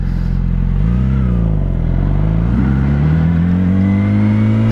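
A motorcycle engine drones loud and close while riding through wet corners in first gear, its pitch dipping and then climbing steadily as the throttle opens, with a constant rumble and no talk.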